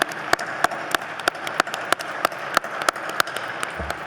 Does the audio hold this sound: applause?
yes